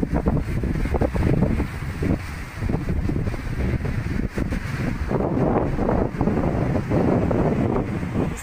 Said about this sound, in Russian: здесь такой ветер, такой холод